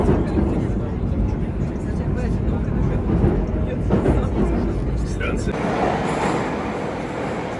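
Steady low rumbling roar of a Moscow Metro train running, with muffled voices in the background.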